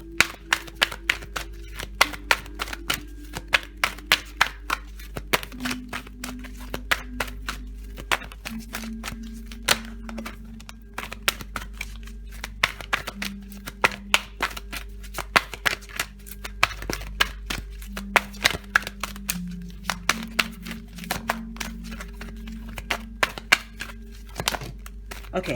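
Tarot cards are shuffled continuously, a steady run of crisp riffling snaps and flicks, close by, with a low musical tone underneath.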